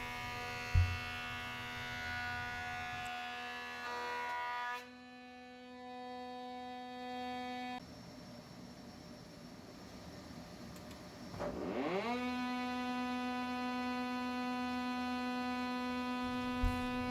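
Wood planer with an Oneida Supercell dust collector attached, taking a full-width pass on a board: steady motor whine and hum that cuts out, then spins back up near the end, no talking.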